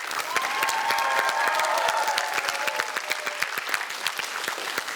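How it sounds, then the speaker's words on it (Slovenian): Schoolchildren's team from a primary school in Ptuj get a loud, sustained burst of applause from a crowd, dense clapping lasting several seconds, with brief whistles and cheers mixed in. "En velik aplavz za osnovno šolo Ljudski vrt Ptuj."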